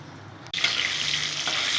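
Boroli fish pieces frying in hot oil for a light curry with eggplant and coriander, a loud broadband sizzle that bursts in suddenly after a brief quiet start and holds steady close up.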